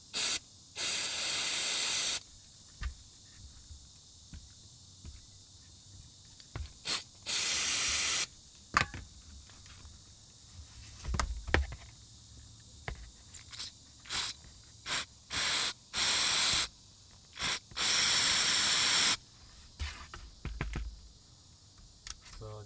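An aerosol can of mass airflow sensor cleaner is sprayed on a Honda Civic in a string of sharp hissing bursts, some brief and some held for a second or two, with quiet gaps and faint handling noises between them.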